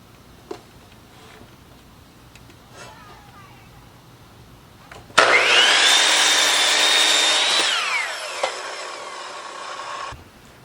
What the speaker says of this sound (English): take it back to the miter saw